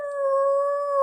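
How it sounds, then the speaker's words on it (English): A dog lets out a single long howl lasting about a second, loud and close, with a steady, drawn-out tone that swells slightly at the end. ""Roo!" howled Stanley as his people took him out of the line."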